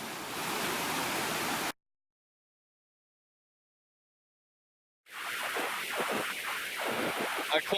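Water pours down a waterfall on Buck Creek in Pisgah National Forest, a dense, steady rush that cuts to silence for a few seconds before returning with some rough, bumpy noise close by.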